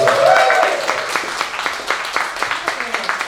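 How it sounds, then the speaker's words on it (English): A comedy show audience in Acton claps in a scattered burst, sharp hand claps close by and mixed with a talking voice, the applause fading into occasional claps. "Give yourselves a round of applause."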